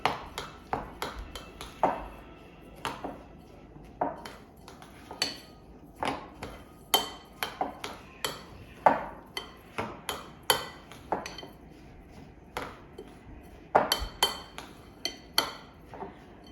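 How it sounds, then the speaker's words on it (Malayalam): Snack ingredients are stirred in a bowl, giving a steady run of sharp clinks and scrapes from a spoon against the bowl in an irregular rhythm, close and fairly quiet, with no talk. "ഇനി ഇത് മിക്സ് ചെയ്യാം നല്ലോണം മിക്സ് ചെയ്യണം"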